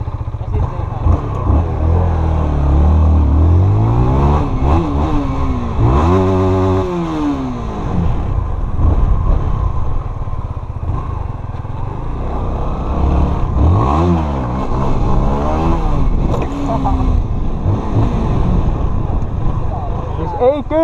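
A small motorcycle engine revs repeatedly, its pitch sweeping up and down in several loud, close bursts, while people talk over it throughout.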